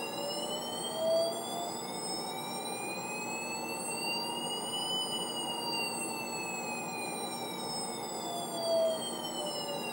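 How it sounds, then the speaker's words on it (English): A synthetic electronic siren from a short ROM BASIC computer program glides steadily up and down in pitch, loud and continuous, with bright harmonics sweeping across the full stretch. "So I would personally call it a siren myself, and very irritating one at that"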